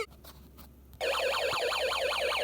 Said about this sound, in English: I'm not touching the ends of the wires, but the alarm is sounding.